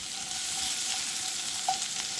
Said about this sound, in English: Once it's cooking nice like this, it's sizzling away